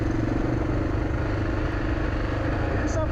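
A rally motorcycle engine runs steadily during a Morocco rally raid, a continuous low throbbing drone that stays loud and even throughout, with faint talk in the background.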